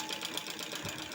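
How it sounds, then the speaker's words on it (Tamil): A domestic sewing machine hemming the edge of a saree, a steady fast mechanical whir of stitching, close and continuous with no talk. "இதுமாரி வீட்டில் ஒரு தையல் மிஷின் இருந்துச்சுன்னா எல்லாருக்குமே யூஸ்ஃபுல் தான்."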